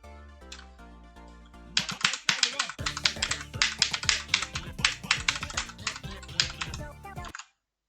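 Rapid keystrokes clatter on a computer keyboard nearby, in quick irregular bursts after a few soft tones, stopping abruptly at the end.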